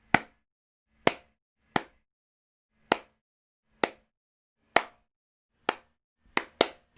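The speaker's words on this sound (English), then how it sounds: "And you can hear we're still getting the fundamental sound of the clap." Single hand claps recorded with background noise ring out one at a time, nine sharp, close smacks at uneven intervals, with the last two coming in quick succession and short decays between them.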